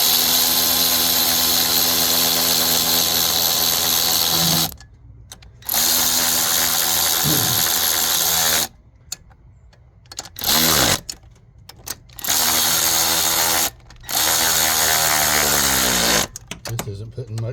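A power tool whirs in loud, sustained bursts as it runs down 13 mm bolts on a 2004 Jaguar XJ8 cylinder head, stopping briefly between bolts, with quieter pauses in between.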